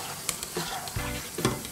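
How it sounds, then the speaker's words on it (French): Cooked lentils being stirred into a lentil curry (dhal) in a pan, with soft scraping and stirring strokes over a steady sizzle, close and moderately loud, no talking. "On va rajouter nos lentilles cuites à l'intérieur. Je mélange."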